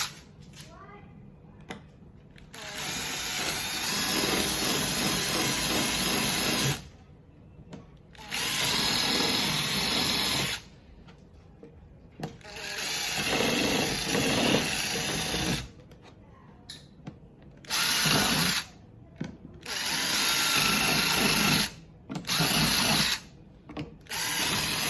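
A power drill whines in repeated bursts of several seconds each, drilling holes in a Coleman fishing canoe hull, separated by brief pauses, close and loud, with no speech over it.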